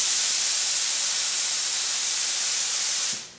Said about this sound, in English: We're going to pull the trigger and set our airflow at 20 to 25 pounds.